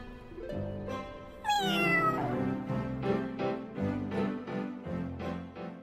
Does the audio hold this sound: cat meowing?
yes